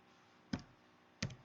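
Two crisp key clicks from a computer keyboard while a MySQL command is typed, close and distinct, about 0.7 seconds apart, in an otherwise quiet room.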